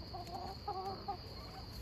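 Backyard hen clucks softly a few times in short, low murmuring bursts, faint against a quiet outdoor background with a steady high insect-like hiss.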